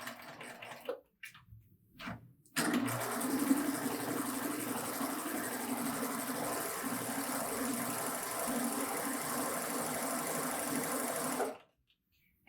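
A Baby Lock Euphoria sewing machine runs a steady, continuous chain stitch with one needle and a looper thread for chain piecing, a loud, even mechanical whir lasting about nine seconds after a few brief starts, then stopping abruptly.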